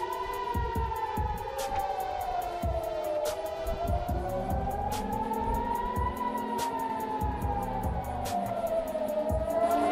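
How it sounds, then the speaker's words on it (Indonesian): Air raid sirens sounding in Haifa, Israel, a loud, continuous wailing tone that slowly rises and falls, with a rapid mechanical clatter and rumbling traffic underneath, no voices. "Sirene serangan udara terdengar di Haifa, Israel pada Selasa 24 Juni"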